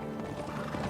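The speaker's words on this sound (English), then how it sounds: "Horses." A short burst of horse sounds in the video game Kingdom Come: Deliverance II, a whinny with hoof clatter, steady and moderately loud against a dense background.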